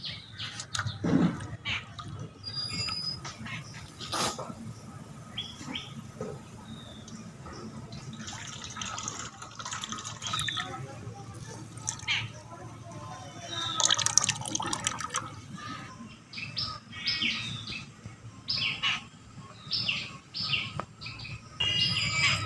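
Fresh chhana (paneer) is rinsed by hand in water, giving intermittent splashes, drips and squelches with birds chirping in the background.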